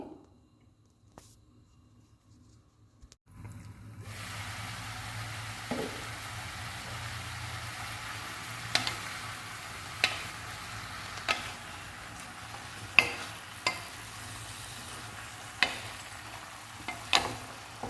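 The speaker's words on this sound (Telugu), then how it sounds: "పుదీనా, పచ్చిమిర్చి, టమాటో వేయించుకుందాము." Mint, green chillies and tomato frying in oil in a pan: after a few quiet seconds a soft steady sizzle starts, punctuated by regular light spatula taps and scrapes.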